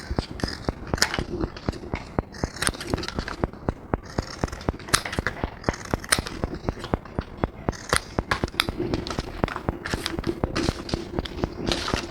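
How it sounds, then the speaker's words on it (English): Scissors snip through paper to cut out a round base for a simple paper flower, a long run of close, crisp, rapid cuts in steady rhythm with brief pauses, with no talk. "So I'm going to cut out the round base."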